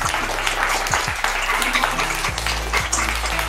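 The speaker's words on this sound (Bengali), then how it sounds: "জোরে হাততালি হয়ে যাক" An audience at a Holi special family game show claps steadily in a sustained burst of applause, dense and even throughout, with a low background hum beneath it.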